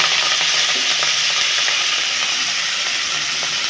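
Steady, loud sizzling of greens being sautéed in sesame oil in a hot pan, with soft stirring scrapes throughout and no talking.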